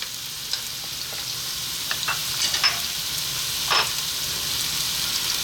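Onion, celery and garlic fry in olive oil, giving a soft, steady sizzle with a few light scrapes and clinks of stirring, close but fairly quiet.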